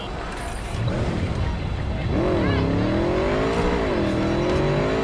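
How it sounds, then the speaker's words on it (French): A motorcycle engine in the game Cyberpunk revs and holds a steady drone, rising in pitch as it accelerates, loud and continuous throughout. "Ah, ma moto"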